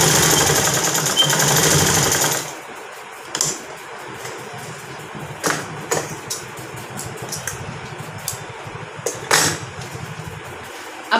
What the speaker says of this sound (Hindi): अब हमने इसकी सिलाई करनी है।